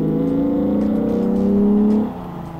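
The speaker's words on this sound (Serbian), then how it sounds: "Mnogi tvrde da ne postoji auto sa fabrički lepšim zvukom iz te ere od VR6 motora." A Volkswagen Corrado with a 2.9-litre VR6 engine revs and pulls hard, a loud, close, smooth rising engine note that climbs for about two seconds before easing off abruptly.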